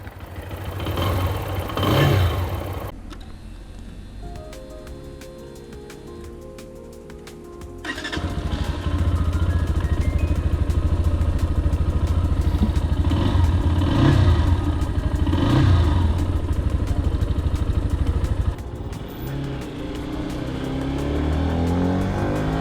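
A Lifan KPS 200 fuel-injected 22 hp motorcycle engine idles, then revs hard and accelerates through several gears, its roar rising and falling as it speeds away and returns.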